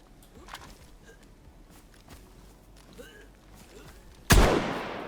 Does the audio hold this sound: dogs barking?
no